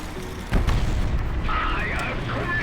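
A designated grid flare artillery strike in World of Tanks lands as one deep, heavy boom that rumbles on briefly, with someone talking over the fading rumble.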